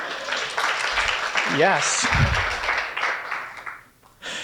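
Audience applause at an awards ceremony during the Engage Summit 2022, a dense, steady clatter of many hands filling the room for several seconds, with voices talking over it before it briefly drops away near the end.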